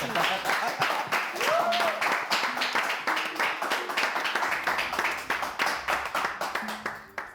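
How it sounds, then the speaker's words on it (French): A live-stream audience claps in bursts of applause, a fairly close, steady patter of hands with voices talking over it, thinning into separate claps toward the end. "Applaudissez pour vous par ici."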